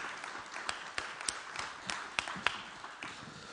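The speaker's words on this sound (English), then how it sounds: "Round of applause." An audience claps at an investment conference, a soft, scattered round of applause with distinct individual claps, fairly distant and quiet.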